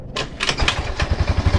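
Motorcycle engine started up during a charging-system check: a few clattering cranking bursts, then the engine catches into a steady, rapid low idle thrum, close and fairly loud, with no voices.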